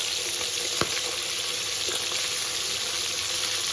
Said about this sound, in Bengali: মাছের এক সাইড ভাজা হয়ে গেছে, এবার উল্টে দিচ্ছে।